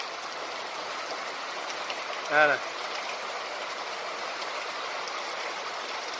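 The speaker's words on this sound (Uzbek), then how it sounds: "Qanaqangi yomg'ir yog'yapti ana." Heavy rain pours down steadily after several hot days, a dense, continuous hiss throughout, with a voice speaking briefly in the middle.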